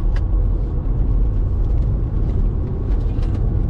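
An Audi A3 3.2 Quattro 8P with manual gearbox, driven on the road: a loud, steady low engine drone and rumble fills the cabin with no talking.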